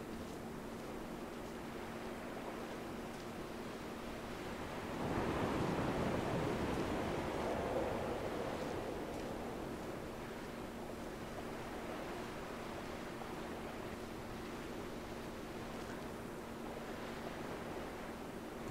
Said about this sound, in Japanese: 波は穏やかだが